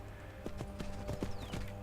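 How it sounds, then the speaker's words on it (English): Horse hooves clip-clop in a steady gait during riding in the Skyrim video game, moderately faint, over a low steady background hum. "So I have a horse."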